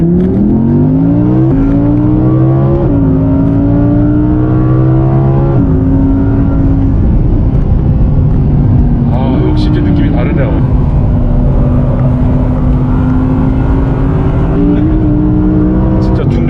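Audi RS6 Avant performance wagon of around 600 horsepower driven hard on a race circuit, its engine climbing and dropping through gears with rising harmonics, loud and close throughout while people talk over it inside the cabin.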